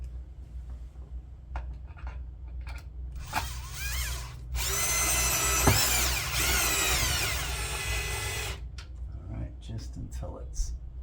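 Power drill whirring as it drives a screw into a pull-down blind bracket, one sustained burst of several seconds with a rising pitch, preceded and followed by short handling clicks and faint talk.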